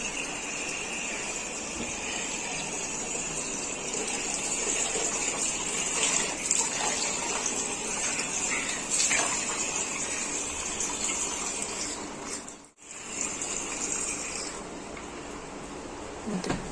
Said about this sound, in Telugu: సో గైస్ ఇక్కడైతే మేము వాటర్ అయితే నింపుతున్నాము.